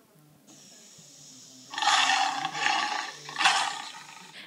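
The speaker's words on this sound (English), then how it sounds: "Lions, let's hear them roar." Lions roaring on an African safari plain, loud rumbling roars rising in two strong bursts after a quieter lead-in with a faint steady tone.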